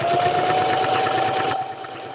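Sewing machine stitching fabric layers for a Christmas stocking, a steady close whirring hum that runs continuously, then drops to a softer motor drone near the end, with no talk.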